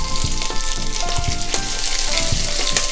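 Curry leaves hitting hot oil in a pan with cabbage and carrot for a Kerala-style thoran stir fry, a loud continuous sizzle and crackle with clinks of stirring, close up and without speech.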